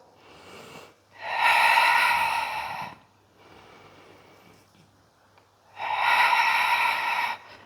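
Loud, close breathing during a full-body workout routine: a long forceful breath, a quieter softer stretch, then another strong breath, each airy and sustained.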